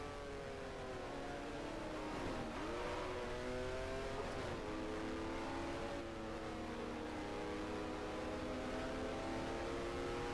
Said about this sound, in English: Went from 5th into 3rd while still having quite a high RPM.